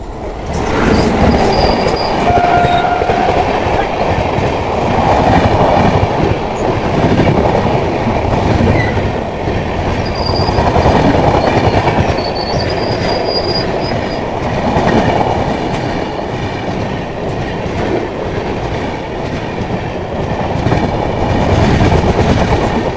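Mumbai Mail express train overtaking on an adjacent track near Dasnagar, heard from aboard a moving train: a loud, continuous rumble of wagons and wheels with rhythmic clatter and occasional high wheel squeals throughout.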